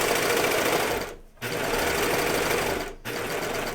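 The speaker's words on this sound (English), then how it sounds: "Just sew for a little bit and then go off." Sewing machine stitching fabric for a pair of pants, running steadily in two close sustained bursts with short pauses between, loud and near with no talk.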